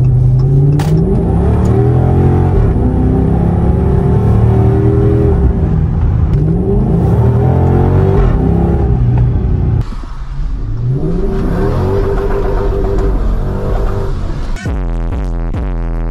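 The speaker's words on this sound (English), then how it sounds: "I've been daily driving this car, and I just love the sound, man." Engine of a 2013 Dodge Charger R/T AWD revving and accelerating hard, loud close rumbling with rising pitch sweeps as it climbs through the gears, a brief dip, then more acceleration, with no talking.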